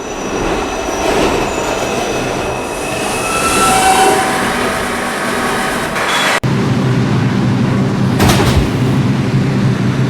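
R142 subway train on the 7 local line at an elevated station, rumbling in loud and close with wheel squeal and clatter, then pulling away again, with no voices over it.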